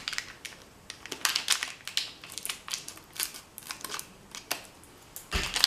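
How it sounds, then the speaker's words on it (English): Scissors snip and crunch through the plastic and foil wrapping of a pregnancy test package, a string of close, irregular cutting and crinkling noises with a louder rustle at the end. "I'm going to use the scissors to cut it open"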